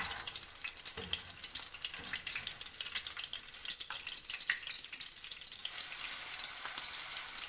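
Minced meat for Peshawari chapli kebab frying in a pan over a low flame: a faint, steady, crackling sizzle that runs unbroken with no talking.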